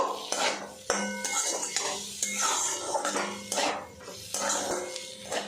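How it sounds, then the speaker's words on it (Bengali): Mung dal with spices is stirred in a pan on the stove, with steady metal-on-pan scraping and clinking under a soft sizzle, close and continuous. "আরও কিছুক্ষণ নাড়াচাড়া করে নেব"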